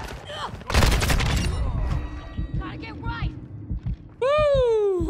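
Kastov 74u rifle in Call of Duty MW2, a rapid burst of automatic fire followed by scattered shots and impacts. Loud and close, with talking over parts of it and other game effects near the end.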